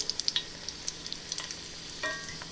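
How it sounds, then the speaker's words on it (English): Goat cheese frying gently in a pan over low heat, giving a faint, steady sizzle with scattered soft crackles and pops, close by and without talk. "See that nice slow sizzle?"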